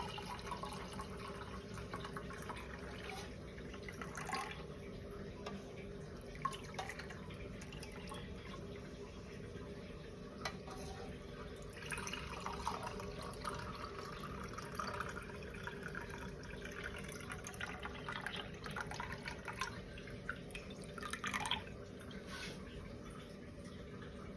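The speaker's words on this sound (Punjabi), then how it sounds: "ਹੁਣ ਆਪਾਂ ਜਿਹੜਾ ਪਾਣੀ ਤਿਆਰ ਕੀਤਾ ਸੀ ਉਹਨੂੰ ਆਪਾਂ ਗਲਾਸਾਂ ਦੇ ਵਿੱਚ ਪਾ ਲੈਣੇ ਆ" Homemade jal jeera water for a summer drink is poured into glasses: a faint, continuous trickle and splash of liquid that runs throughout against quiet room noise.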